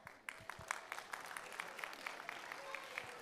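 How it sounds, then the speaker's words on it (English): Quiet clapping from an audience at a children's derby event, with distinct hand claps in an uneven rhythm and faint voices underneath. "everybody stand up and take a bow so we can clap again"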